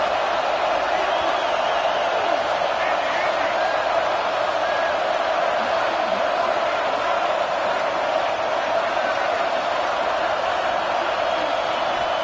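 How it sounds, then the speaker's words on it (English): Stadium crowd at an Alabama Crimson Tide college football game against Clemson roars steadily on third down, a dense, continuous wash of crowd noise that holds at a constant loud level throughout. "The Tide crowd rolling noise down on the Saban field on third down."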